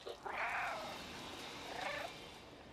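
A cat meows twice in the Stray video game, a clear meow near the start and a shorter one about a second and a half later, over a soft steady background hum.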